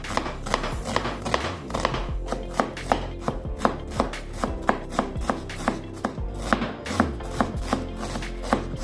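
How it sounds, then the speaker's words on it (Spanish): A knife chops an onion into small brunoise cubes on a board, giving rapid, close, crisp regular taps that keep up an even rhythm throughout. "Luego vamos a hacer los cortes cuadraditos o llamado también corte de brunoise."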